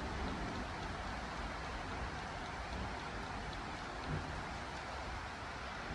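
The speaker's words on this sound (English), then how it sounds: "You hear the thunder? You hear the rain?" Steady rain falls outdoors in Jamaica, a faint, even hiss of drops that continues for several seconds without talking; no distinct thunderclap stands out.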